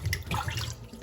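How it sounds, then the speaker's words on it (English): Cold tap water runs over saltfish in a sink for a brief splashy rinse, a close, continuous gush with some patter. "rinse it off with some water"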